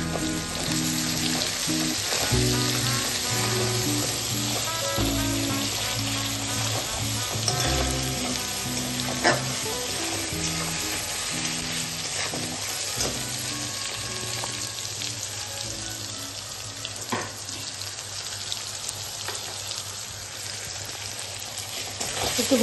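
Chicken pieces with tomato and salt frying in a pan, a continuous close, dense sizzle and crackle with occasional stirring, steady throughout with no talk.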